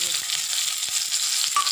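Spices frying in a tablespoon of hot sesame oil for orange peel pickle, a steady, fairly loud sizzle with a few brief clicks of a utensil and no talk.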